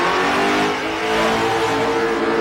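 A 1980s street machine engine revs hard on a drag strip at Summernats, a loud, close, sustained roar with no break.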